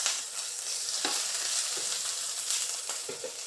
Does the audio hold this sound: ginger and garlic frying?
yes